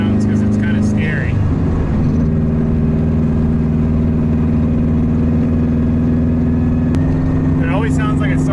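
A WRX-swapped Subaru GC8 engine drones steadily under load, its pitch holding and stepping slightly higher near the end, while someone talks over it at the start and finish.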